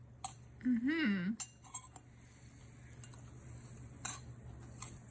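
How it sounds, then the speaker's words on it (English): A mixture is stirred in a pot with a utensil, giving scattered light metal clinks and scrapes over a faint hiss. A brief hummed vocal sound comes near the start. "It's sizzling as I stir it."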